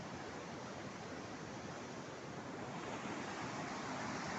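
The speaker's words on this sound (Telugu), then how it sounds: "వాటర్ ఫ్లో మాత్రం వేరే లెవెల్ ఉంది" Rushing river water near waterfalls on the road to Vanjangi, a steady, loud, continuous roar close by that holds level throughout with no voices.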